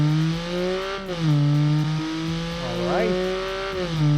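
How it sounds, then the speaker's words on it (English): A turbocharged three-cylinder all-wheel-drive car engine revs close up with loud, choppy pitch rises and falls as it shifts, plus a brief spoken remark partway through. "this thing has a 3-cylinder engine, which will not be, I mean, doesn't really sound very brilliant, but it's turbocharged"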